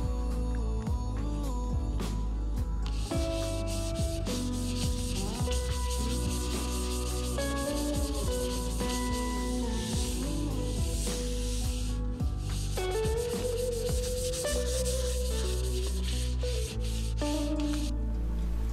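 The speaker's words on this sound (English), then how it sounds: "I first started sanding with 80 grit sandpaper and moved on to 120 grit, and then finally finished it up by hand with 220 grit" Sandpaper of 220 grit rubs by hand across a cedar tabletop in continuous back-and-forth strokes, a close, steady scratchy hiss with no talking.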